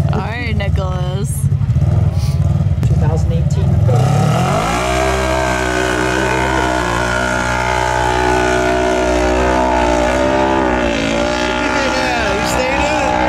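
Turbo side-by-side UTV held at full throttle racing up a snowy ski hill, a loud, close, sustained engine roar with rising whine as it climbs and shifts, with voices shouting over it.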